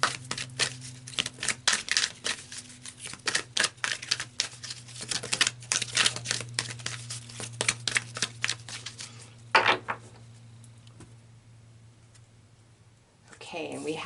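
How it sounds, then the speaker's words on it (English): Tarot cards are shuffled by hand in quick, rapid riffling clicks that run for several seconds, then stop and go quiet before a few soft handling sounds, with a steady low hum underneath. "So let's pull some more cards here."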